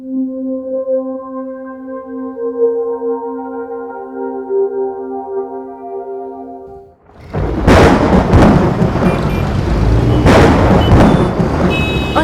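After a sustained droning tone, heavy rain and thunder break in suddenly, a loud, dense roar with booming thunder crashes, during a stormy night when a vehicle has broken down.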